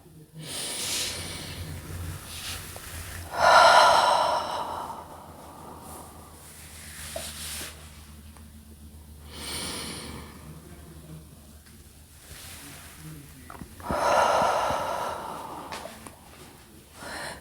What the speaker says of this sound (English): Take a few deep breaths and just calm your mind with Hatto breathing.